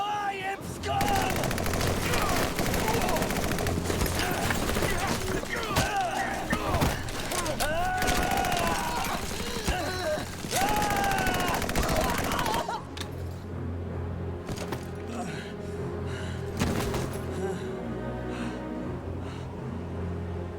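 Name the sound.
gunfire in the video game Valkyria Chronicles 4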